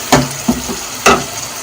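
Tomatoes fry in a pan with a few short bursts of sizzling and stirring, moderately loud against a low, steady hiss.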